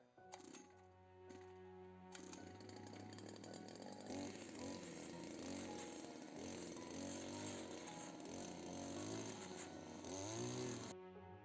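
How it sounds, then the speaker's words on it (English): A power drill bores planting holes for currants in a garden, with a short burst that is then held for a long, loud whine before it cuts off, and no talking. "so let's go drilling."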